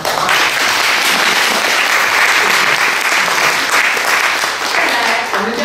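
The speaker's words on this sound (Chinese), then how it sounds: "我们为大家一个热烈的掌声" An audience at the opening ceremony and press conference of a cultural lecture series gives steady, dense, loud applause that lasts the whole stretch.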